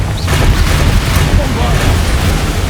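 A Confringo fire spell blast erupts in Hogwarts Legacy, a loud booming, rumbling explosion of combat effects with heavy low-end thumps and crackling debris, sustained for a few seconds.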